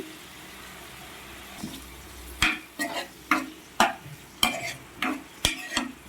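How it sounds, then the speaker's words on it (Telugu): Brinjal pieces frying in a pan with green chillies and turmeric: low steady sizzle under a run of sharp, rhythmic spatula scrapes and knocks that grow regular midway, close by and without speech. "ముందుగా కట్ చేసి పెట్టుకున్న పచ్చిమిర్చి కూడా అయితే వేసేసుకుంటున్నానండి"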